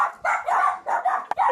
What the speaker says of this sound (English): Fucking dogs, I can't handle this.